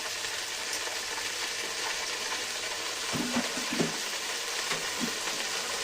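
Chopped onions, mint and coriander frying in a pan for a gongura chicken curry, a steady close sizzle throughout with a few clattering stirs of a utensil against the pan partway through.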